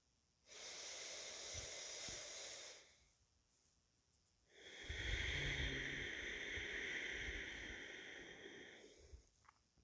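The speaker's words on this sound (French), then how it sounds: "Prends de grandes et longues respirations." Two deep, slow breaths taken during meditation, each a long airy inhale-and-exhale lasting a few seconds, close and soft, separated by quiet pauses with no talking.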